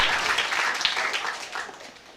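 Female college students applauding after a lecture, dense continuous clapping from a crowd at moderate distance, steady then gradually tapering off toward the end.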